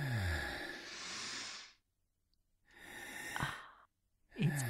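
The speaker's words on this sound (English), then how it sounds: "Deep breaths all together now." Several people take slow, deep breaths together, long airy inhales and hissing exhales in three distinct waves separated by short silences, heard close.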